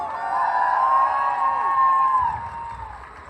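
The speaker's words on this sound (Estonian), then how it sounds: "teeme iseendale suure aplausi, hurraa!" Crowd cheering and whooping outdoors at a torchlight procession, a loud sustained wash of voices with a bright tone running through it, fading somewhat toward the end.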